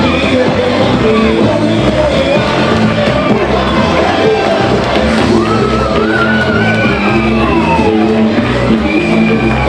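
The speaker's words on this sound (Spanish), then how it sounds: "Ese aplauso fortísimo para este disfraz de maravilloso mundo de Mel" A loud carnival crowd at an Antroido celebration roars for a costume, with shouts, whoops and cheers overlapping in a dense, continuous din.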